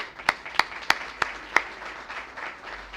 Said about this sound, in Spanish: yo les voy a dar un aplauso y se lo dan todos ustedes